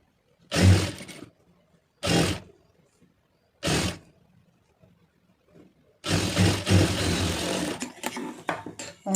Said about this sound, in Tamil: இந்த ஒட்டில் வந்து ஒரு தையல் போட்டுருங்க